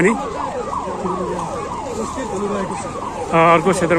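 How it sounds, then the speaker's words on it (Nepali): An ambulance siren wails at a wildfire scene near a village, its rising and falling tones sweeping steadily and fairly loud, with a brief burst of harsher, buzzier siren noise near the end. "एम्बुलेन्स पनि आइसकेको छ।"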